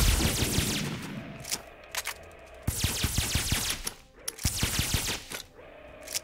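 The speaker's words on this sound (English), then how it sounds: "I do like these volley cannons." Volley cannons fire in the video game A World Of Chaos Warsphere, loud rapid bursts of sharp cracking shots in quick clusters, repeated several times with brief pauses between volleys and no voices.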